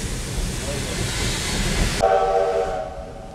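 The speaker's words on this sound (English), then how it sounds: "I hope you've enjoyed the train ride. And here we're pulling into the depot." An 1880 steam train pulls into the Hill City depot, giving steady broadband rumble and hiss for about two seconds, then a sharp cut to a quieter scene with a tonal whistle-like blare sounding near the end.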